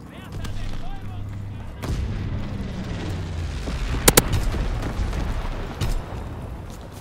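Incendiary bombs dropped by an altitude bomber in a video game, a rumbling series of booms and distant blasts with a few sharp cracks, moderately loud over a continuous low roar.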